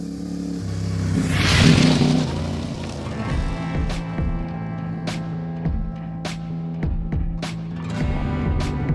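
A CFMOTO 450MT IBEX450 adventure motorcycle on a dirt trail, rushing up close as the engine revs and pulls away, followed by a steady throbbing engine note with sharp periodic knocks, no talking.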